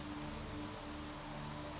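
Steady rain falls and patters on surfaces in an even, dense hiss, soft and continuous throughout, with no voices.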